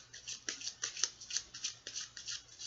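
Tarot cards are shuffled by hand in a quick run of soft, crisp riffling bursts, close and quiet, with no talking.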